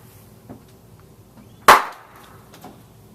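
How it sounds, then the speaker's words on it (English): A single sharp bang from a medium airsoft grenade loaded with 15 BBs bursts out with a short decaying tail amid quiet surroundings, moderately close, with faint knocks before and after. "this is the results of our second airsoft grenade, our medium explosion"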